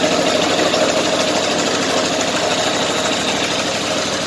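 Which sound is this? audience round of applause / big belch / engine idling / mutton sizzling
engine idling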